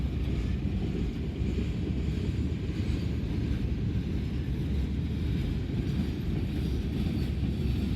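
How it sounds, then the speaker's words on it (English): A long freight train with boxcars and reefer cars rolls past a trackside spot in Greenwich, Ohio, a steady loud rumble of wheels and cars close by, with wind buffeting the microphone and no talk. "And this looks like almost the exact same train that went through earlier"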